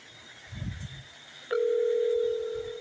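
A landline telephone gives a steady dial tone while calling a hotel front desk, preceded by a soft low thump, then the tone holds loud and unbroken to the end.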